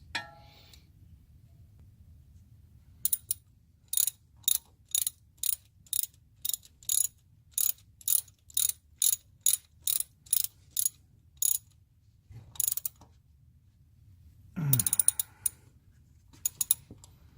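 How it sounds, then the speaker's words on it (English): A ratchet tightens a screw on a 1997 Jeep Wrangler during serpentine belt work, giving a regular series of about fifteen sharp metallic clicks close by, followed by a short clatter and a few final clicks. "I will just tighten this screw."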